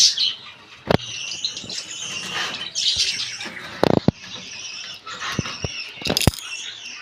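Small pet birds in a breeding pair chirp and squawk repeatedly at close range, with a few sharp louder calls and fluttering wing sounds standing out from the steady twittering.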